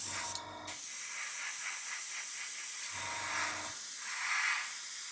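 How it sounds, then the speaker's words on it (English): An airbrush sprays thinned acrylic paint in a steady, close hiss that runs through the whole stretch, with two brief low mechanical bursts, likely the compressor or trigger, near the start and midway. "The airbrush isn't clogging, the paint isn't pooling."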